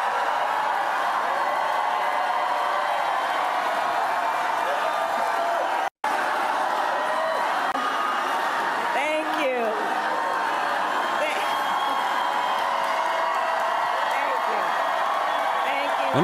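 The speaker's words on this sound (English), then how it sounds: "When was the last time Biden got applause like this?" A crowd at a Kamala Harris campaign speech in Milwaukee applauds and cheers in a sustained, dense wash of clapping, broken by a brief dropout midway.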